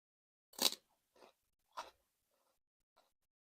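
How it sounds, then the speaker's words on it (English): Celery dipped in blue cheese is bitten and chewed with a few sharp, close crunches spaced apart, then a faint final crunch in quiet surroundings. "Let's try the celery with the blue cheese."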